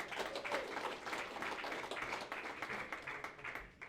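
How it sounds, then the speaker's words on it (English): Oration audience clapping for Tony Shepherd, a steady sustained wash of many hands applauding, moderately distant and even throughout. "give him a clap"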